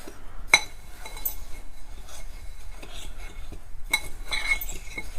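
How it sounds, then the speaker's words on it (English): A fork stirs spices, panko, flour and cornmeal together in a bowl for air-fryer fried green tomatoes, giving soft scraping and stirring broken by two sharp metallic clinks against the bowl, close and without talk. "you're going to mix it up, and I use a fork"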